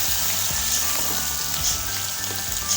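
Steady, close sizzling of ginger, garlic and green chili paste frying in hot oil, with light crackles throughout.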